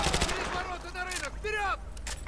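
Rapid gunfire from a weapon in Call of Duty: Modern Warfare 2 Remastered, a burst of sharp shots at the start followed by scattered reports, with game sounds and a voice talking over it.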